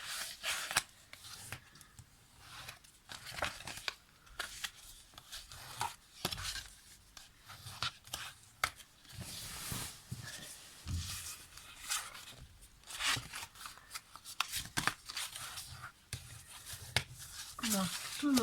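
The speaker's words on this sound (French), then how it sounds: "on va marquer les plis." Paper being creased into folds for a Christmas chocolate box, with close, crisp crackling and scraping taps repeating in quick bursts throughout.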